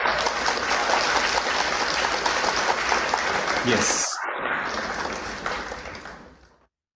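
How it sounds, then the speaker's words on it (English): Applause from a convocation audience fills the hall as steady dense clapping, then thins and fades out over the final seconds, with a brief spoken reply partway through. "I'm just waiting for the claps sounds to get over."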